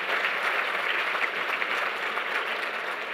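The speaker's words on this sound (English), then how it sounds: "Let's hear it for Andy." Audience at an innovators' showcase applauding a speaker, a dense, steady wash of clapping that holds at an even level throughout.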